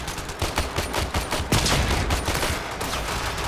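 Gunfire in Warframe during a Mars excavation mission: a rapid, loud volley of repeated shots close by, with several weapons firing continuously throughout.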